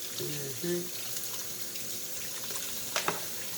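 Tap water running over dried black-eyed peas being washed in a sink, a soft steady stream at moderate distance with a few brief clinks and a voice murmuring faintly underneath.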